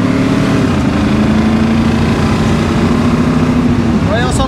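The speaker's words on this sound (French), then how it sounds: "on s'entend pas quand on accélère" A 1969 Ford Mustang GT V8 accelerating, a loud, steady engine roar that holds its pitch and then climbs near the end.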